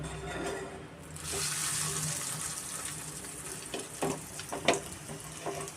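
A marinated, breadcrumb-coated chicken cutlet is lowered into hot deep-frying oil over a medium flame, giving a soft continuous sizzle broken by a few small clinks and bubbling pops.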